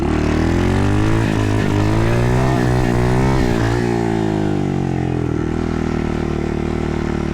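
A small pit bike engine, a 110 cc machine, loud and close as it revs and climbs through gears, pitch rising and dropping repeatedly while doing wheelies on a backyard track road.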